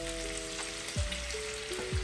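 Fish frying lightly in masala, a soft steady sizzle beneath a faint tonal hum with a few low thumps.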